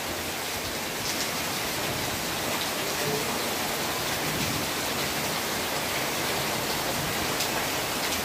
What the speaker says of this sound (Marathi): तर मित्र फायनली पाऊस इलो.